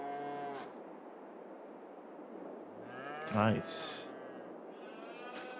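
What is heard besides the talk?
cows mooing in video game Farming Simulator 22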